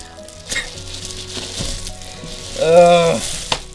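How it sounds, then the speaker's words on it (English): Plastic and paper packaging crinkling close up while a new PC is unboxed, bursts of crackling rustle rising to a louder stretch near the end, with no talking. "You guys are probably hearing all that crinkling"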